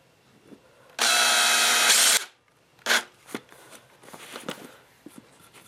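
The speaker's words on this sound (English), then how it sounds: "close to the end, let's drill one in, see what happens" A power drill whirs steadily for about a second, driving a screw into wood for an acoustic panel, then a few short knocks and scrapes of the workpiece follow in a quiet room.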